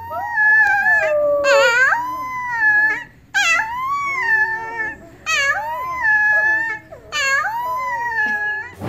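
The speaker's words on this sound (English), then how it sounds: "A howling baby wolf is the sweetest thing you'll hear today." Baby wolf howling in repeated rising, wavering cries with brief pauses between them, close and clear with no other sounds.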